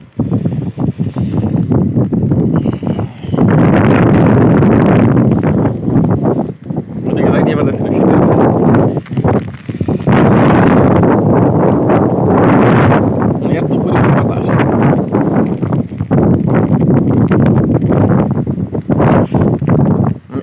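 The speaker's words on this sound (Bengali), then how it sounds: "এরকম বাতাস যে ওইদিকে যাওয়াই যাইতেছে না" Strong post-storm wind roars across a waterlogged crop field and orchard, buffeting the microphone in loud, sustained gusts with brief lulls, while a person talks over it.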